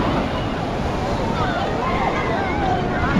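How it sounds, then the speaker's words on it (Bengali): Ocean waves breaking at Puri beach, a steady broadband wash of surf with wind buffeting the microphone, continuous and fairly loud throughout. "নেমে গেছি আমরা পুরীর সমুদ্রে, ঢেউগুলো জাস্ট দেখো।"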